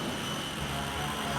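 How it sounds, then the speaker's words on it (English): A cartoon throttle jet engine surges ahead with a loud, steady roar, constant broadband rushing from start to finish with no voices. "And the throttle jet surged ahead."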